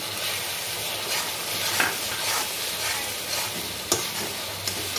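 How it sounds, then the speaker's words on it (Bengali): Tomato puree goes into a pan of frying coriander, cumin and chilli paste for a soybean kofta curry, raising a dense, steady sizzle with occasional splatter pops and spoon scrapes, close and without speech. "এরপরে টমেটো পিউরিটা দিচ্ছি"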